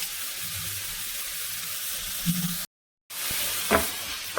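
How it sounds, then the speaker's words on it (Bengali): Ground spices, coriander and chili powder, sizzle and fry in a pan for a Bengali rui fish curry, a steady hiss with a brief gap of silence and a soft stir scrape near the end. "আর একটু ধনে গুঁড়ো, আর সামান্য লঙ্কা গুঁড়ো দিয়ে এটাকে ভালো করে আমি আবার মশলাগুলোকে কষিয়ে নেব।"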